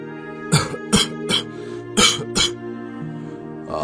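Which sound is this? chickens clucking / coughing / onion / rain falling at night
coughing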